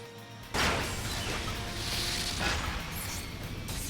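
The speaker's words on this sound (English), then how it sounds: "That is one heck of a main cannon." A main cannon fires in the video game Final Fantasy XIII, a sudden loud blast followed by a sustained roaring, crashing wash of sound that lasts several seconds.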